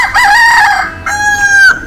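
A rooster in a park in Penang, Malaysia crows twice, loud and close, each call a long strained cock-a-doodle-doo with a brief pause between them.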